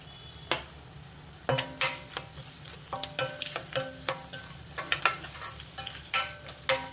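Carrots fry in a pan with turmeric, a soft sizzle running underneath as a spoon scrapes and clinks against the pan in quick irregular strokes.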